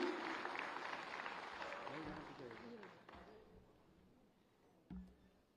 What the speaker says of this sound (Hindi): आप सबकी तालियां आपकी भावनाओं को मंच तक पहुंचाएंगी।